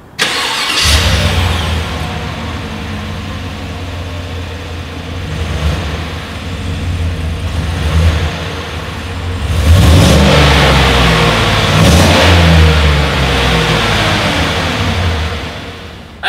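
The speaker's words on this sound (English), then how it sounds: "here is that exhaust clip." A 2020 Chevrolet Tahoe SUV engine starts and revs loudly from right at the exhaust, with several rising and falling rev swells over a rumbling idle and no talk.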